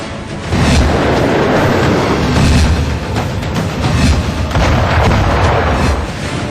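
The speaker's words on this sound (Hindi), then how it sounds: "पाकिस्तान ने पिछले 15 दिनों में 7 सेक्टरों में जबरदस्त गोलीबारी की है।" Heavy border gunfire and artillery roll on in a dense, loud barrage of booms and bursts that barely pauses.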